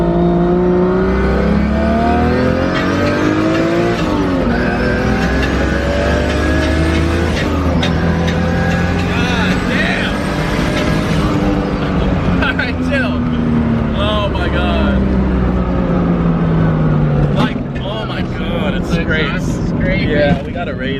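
A car accelerates hard through the gears, its engine note climbing steeply, dropping at each shift, then climbing again in repeated long sweeps, loud and close from inside the cabin, with occupants talking and shouting over it.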